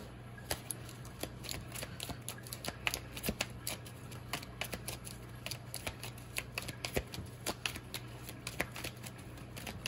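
A tarot-style deck of cards is shuffled nearby in a steady stream of rapid, crisp riffling snaps that carries on without pause, over a faint low hum and with no voice.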